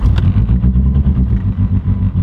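A Mitsubishi Evo's four-cylinder engine warms up close by in a garage, a loud, lumpy idle with throbbing low pulses and a few sharp clattery ticks early on, no one speaking.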